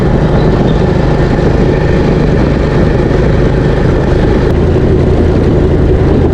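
A borrowed motorcycle's engine runs steadily and loudly close by, a continuous low rumble with no gaps and no voices over it.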